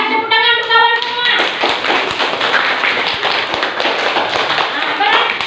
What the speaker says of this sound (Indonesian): tepuk tangan untuk kawan semua